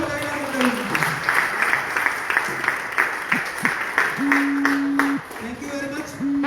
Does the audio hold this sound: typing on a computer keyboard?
no